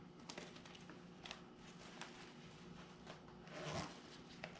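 A zipper is pulled along the front of a telescoping hood that zips on both sides, giving quiet, short ripping strokes in a few bursts, close up and faint, with no talk.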